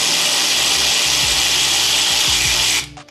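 Battery-powered ratchet spinning strut tower bolts loose on a Nissan 350Z drift project car, a loud continuous whirring buzz with small pitch dips, close and alone, cutting off at the end.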